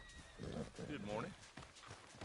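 A horse in Red Dead Redemption 2 gives a short neigh and whinny with hoof clops, close and fairly faint, over a voice and game background.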